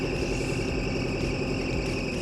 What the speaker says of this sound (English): you just barely move it up a little bit, and you're able to start it up.